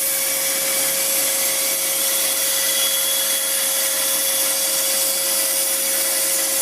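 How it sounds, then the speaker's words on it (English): A bandsaw rips a wood board lengthwise in half, giving a steady, continuous whine and rasp at close range that holds an even level throughout, with no talking. "I'm going to rip this in half at the bandsaw."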